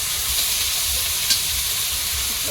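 Chopped onion and green chillies fry in oil with panch phoron, a steady, close, hissing sizzle that holds evenly throughout with one brief crackle in the middle.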